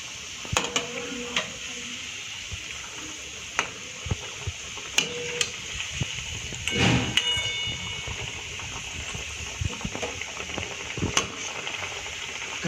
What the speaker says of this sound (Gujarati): આપણે કટ લગાવ્યો છે ઉપર એટલે એમાં ગરમ તેલ અંદર ઉતરી અને અંદરથી સારી રીતે એવી ફ્રાય